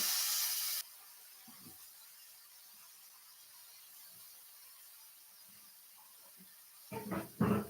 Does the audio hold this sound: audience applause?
no